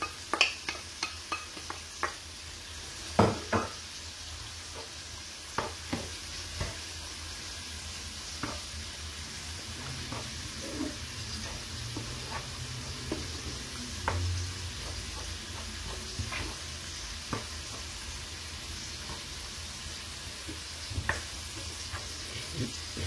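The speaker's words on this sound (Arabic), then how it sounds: "ها هي الكفيته دخلات مع الزيت. دابا غادي نزيدو البصله" Minced kefta meat fries in oil in a pan, making a steady low sizzle throughout, with scattered sharp clicks and scrapes of stirring and utensils. No speech is heard.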